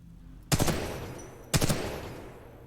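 Two loud gunshots from a weapon in the video game Titanfall 2, about one second apart, each a sharp crack with a short decaying tail, heard alone with no talk.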